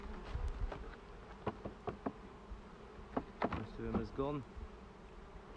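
Honeybees buzzing around a backyard beehive in a steady, close drone, with scattered sharp taps and knocks from working the hive and a brief spoken remark.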